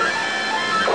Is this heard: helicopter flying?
no